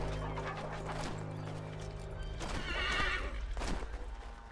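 A horse whinnies loudly over a low steady hum, followed by a second, shorter neigh and the beat of hooves near the end, in Assassin's Creed 3 Remastered.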